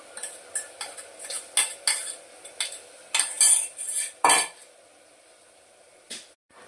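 A spoon scrapes and clinks in a pot while potatoes and ginger-garlic paste are stirred for pulao, a run of sharp metallic strokes in an uneven rhythm, close and fairly quiet, trailing off near the end.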